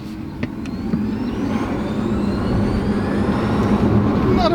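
A BMW i3s electric car with 182 brake horsepower accelerates hard on the road, giving a steady broadband rolling and road roar with a faint rising whine that grows slightly louder over a few seconds, with no talk.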